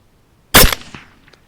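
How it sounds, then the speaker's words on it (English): One sharp, loud crack from an Avenger 55XR air rifle fired outdoors at a skunk, followed by a short fading echo and a faint knock, with no one speaking. "Missed with the first shot. Clipped it with the second shot. And destroyed it with the third shot."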